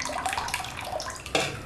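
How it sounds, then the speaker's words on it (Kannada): Water draining through the perforated bottom of a toothpaste container while sprouting horse gram, a steady close trickling and splashing with a brief louder gush near the end. "ಇದರಲ್ಲಿ ನೀರೆಲ್ಲ ಕೆಳಗಿಳಿದು ಹೋಗಬೇಕು"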